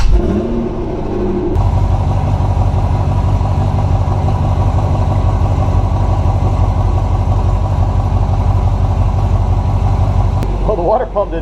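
A C6 Corvette V8 idles steadily after a water pump and thermostat replacement, the low engine rumble holding even and close throughout, with a brief voice and a few mechanical sounds near the start.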